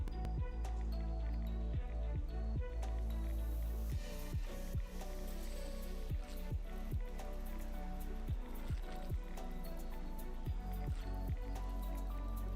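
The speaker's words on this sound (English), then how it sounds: "But everybody can hear me fish now." Fishing in the Fallout 76 video game gives a steady run of watery drips, squishes and small splashes, with bursts of trickling liquid over a constant low background hum.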